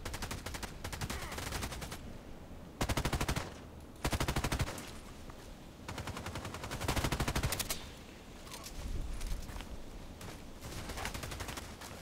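Bursts of automatic gunfire in a shooter video game with an EBR rifle, loud rapid volleys repeating in several clusters across the stretch with brief gaps, no voices.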